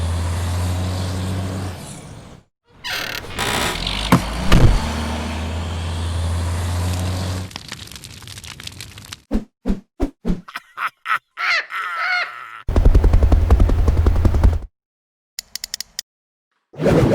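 Sound effects for a stop-motion product ad: a delivery truck rumbles with engine drone, a honk and hissing brakes, then clicks, a rushing wave splash and short bursts follow, loud and close with silent gaps.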